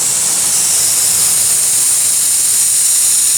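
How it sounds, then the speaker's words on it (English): A U-series lawn sprinkler nozzle throws a high and a low water stream, producing a continuous, loud, bright hiss close by, unbroken and without speech. "This is a U-series nozzle. Has 2 streams. A high stream and a low stream."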